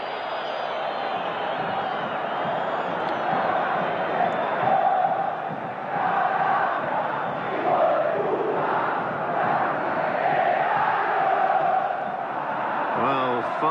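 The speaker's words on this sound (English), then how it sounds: "Listen at the crowd." A huge football stadium crowd at a Boca Juniors vs River Plate match in the Argentine league, 1987–88, chants and cheers in a loud, rolling, rhythmic roar that swells and dips throughout.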